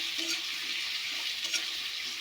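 Capsicum and slit green chillies frying together in a pan, a quiet, even sizzling hiss with light crackles and a brief stir or two, close and without speech.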